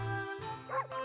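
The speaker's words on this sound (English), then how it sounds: "No, you're only supposed to bark." Cartoonish dog barks from the video game Okami, a few short yips and bow-wows in quick succession over steady game music, close and clear.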